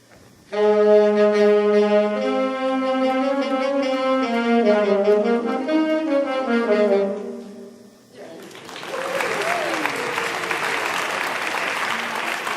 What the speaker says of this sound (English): Next we have the alto saxophones.